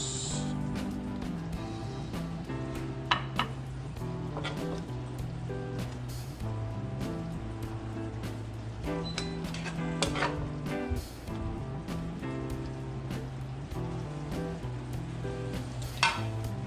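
Sauce poured into a pan of frying milkfish (bangus) for bistek bangus makes a steady sizzle that runs continuously under loud background music, with no talking.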